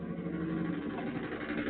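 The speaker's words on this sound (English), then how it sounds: "I've got that truck going by outside the window here." A truck passing outside a window gives a steady, muffled low engine rumble that holds evenly throughout, with no speech over it.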